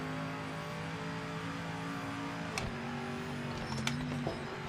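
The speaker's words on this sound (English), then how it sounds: "I'm one who thinks they nailed the sound of the V8 supercar." A V8 supercar engine in a racing video game holds a steady droning tone, then shifts pitch with brief clunks around gear changes before settling into another sustained note.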